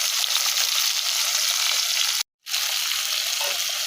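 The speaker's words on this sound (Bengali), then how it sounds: "মাছগুলো তেলে ভাজি করে নিতেছি" Small fish frying in oil, a bright close crackling sizzle that runs steadily, breaks off for a brief moment of silence, then resumes at the same level.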